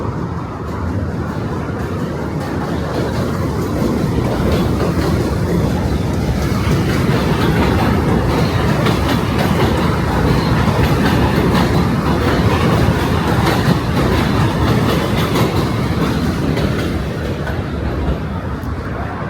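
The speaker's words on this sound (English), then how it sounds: "That was a J train, so 2 J's and 2 M's." A New York City J subway train passes on an elevated line in Brooklyn, a loud, continuous rumble and rattle of wheels on track that holds steady for nearly twenty seconds, close by and with no one talking.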